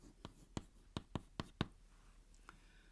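Pen writing on paper while working through accounts, a handful of quick faint scratchy strokes in a short burst, then one more, close but quiet.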